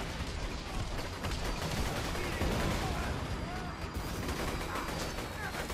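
Continuous, loud gunfire from the video game Borderlands 2, a dense rattle of rapid shots layered with impacts and game effects that runs without pause throughout.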